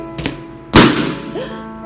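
A balloon pops in a children's demonstration, one loud sharp burst near the middle, then faint room noise and a trace of voice.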